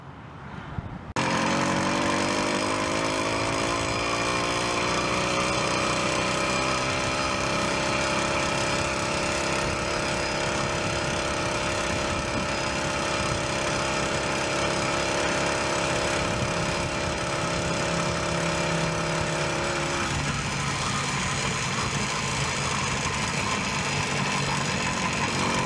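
A small gas engine on a motorized bicycle starts up loud and close, then runs and revs with a rising and falling drone in a windy outdoor setting, and its pitch sags and roughens as it loses power near the end.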